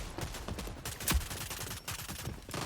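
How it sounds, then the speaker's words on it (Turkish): Gunfire crackles through a firefight in the video game Rogue Company, with rapid bursts of shots and one sharper nearby crack, moderately faint and without talk. "Galiba burada bir çatışma var."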